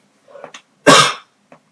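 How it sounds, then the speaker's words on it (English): A single loud, close cough bursts out after a brief throat sound, followed by a faint short noise; heard alone without speech. "I did have to cough."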